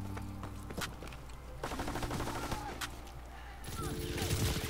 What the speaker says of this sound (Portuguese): Dois tiros, assim, dessa distância, dois tiros.